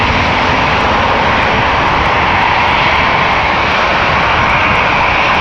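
A Cathay Pacific Airbus A350-1000 jet airliner roars at Amsterdam Schiphol Airport as a loud, steady broadband engine rumble that fills the whole stretch, heard alone with no talk.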